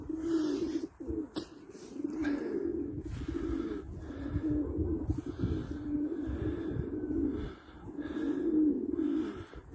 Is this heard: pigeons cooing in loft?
yes